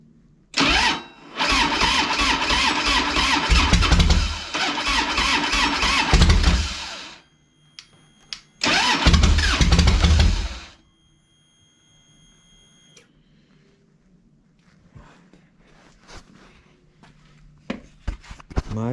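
A Harley-Davidson motorcycle that has been tipped over, with its battery charged overnight, cranks loudly in a long burst of about six seconds and then a shorter one, followed by near silence with faint clicks.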